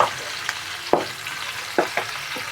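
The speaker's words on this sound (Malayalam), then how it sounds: "ചെറിയ ഉള്ളി ചെറിയുള്ളി ഇട്ടിട്ട് നന്നായിട്ടൊന്ന് മൂപ്പിച്ചെടുക്കണം" Small shallots fry in hot oil in a pan, a soft continuous sizzle broken by a few sharp spatula scrapes and pops, close and moderately loud, no voices.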